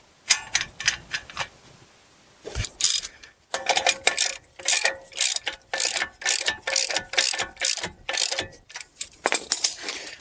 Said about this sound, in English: we just want to tighten up our axle nut